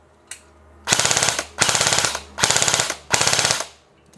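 ENC 302 M4 CQB airsoft gun firing full auto in four rapid bursts, each under a second with short pauses, close and loud, with one brief shot before them.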